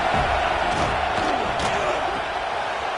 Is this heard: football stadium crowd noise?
yes